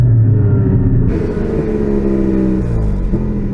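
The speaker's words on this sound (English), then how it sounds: "Give it a tiny rev for me." A Porsche sports car engine with a fault revs up loudly from a steady idle, its pitch climbing and holding, with a deep rumbling roar throughout.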